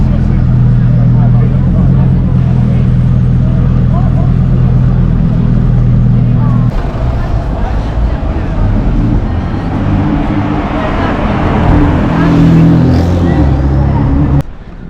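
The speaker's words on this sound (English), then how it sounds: "As if by magic, a Supercar arrives." A supercar on King's Road in Chelsea rumbles loudly past at close range. Its engine drone swells and shifts as it goes by, with street noise and voices around it.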